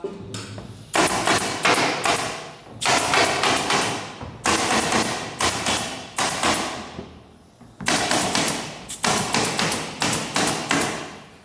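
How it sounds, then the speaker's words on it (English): A pneumatic staple gun driven by an air compressor fires staples into an aluminium boat build, giving loud, close, sharp bangs in rapid clustered bursts separated by brief pauses. "Got the staple gun, air compressor."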